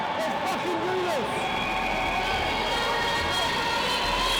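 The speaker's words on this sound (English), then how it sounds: "the crowd's really getting into these last 3 minutes" Ice hockey crowd in the last minutes of a tied game, a continuous dense roar of voices and cheering with whistles and shouts, fairly close and sustained throughout.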